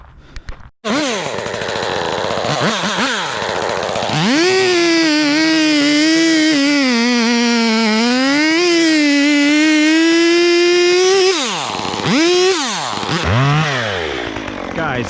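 A Stihl chainsaw cuts through a dead tree log close up, its engine revving into a steady, loud, slightly wavering whine for several seconds before dropping back to idle bursts.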